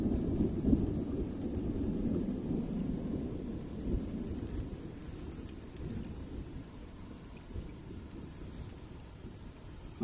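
A thunderstorm during a fishing trip rumbles steadily, with a deep continuous roll of thunder mixed with rain hiss, loud at first and easing slightly toward the end.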